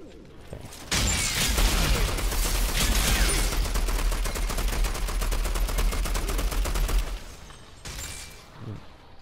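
Rapid bursts of automatic gunfire in the video game Outriders, loud and nearly continuous for about six seconds with heavy low thumps, then a brief pause and a few trailing shots.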